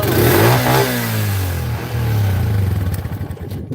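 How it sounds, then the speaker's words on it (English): An engine revs hard close by, a loud throaty roar that rises and falls and then settles into a rough, pulsing idle, with no talk over it. "Rev your engine up sometimes."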